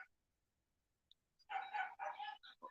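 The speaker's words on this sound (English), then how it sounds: "Uh-oh, we have a fight. The neighbor's dogs." Neighbouring dogs in Thailand break into a fight at a distance, a burst of overlapping barks and snarls after a near-silent stretch, with no talking.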